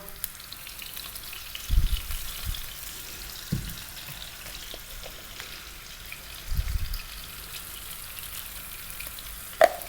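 Food frying in a pan over medium heat for a broccoli cream sauce pasta, with a low steady sizzle and a few soft scrapes of stirring, the loudest just before the end.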